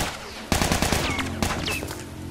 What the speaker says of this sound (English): Are you trying to shoot me?